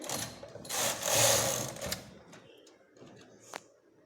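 A knitting machine knits a sweater sleeve in a few close mechanical passes, a loud whirring rattle of the carriage running across, then fading to softer clicks and a brief clack.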